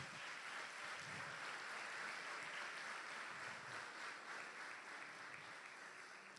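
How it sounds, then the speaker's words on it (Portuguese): A church congregation applauds steadily during a sermon, a dense, even wash of many hands clapping at moderate distance with no voices over it. "Vamos aplaudir ao Senhor."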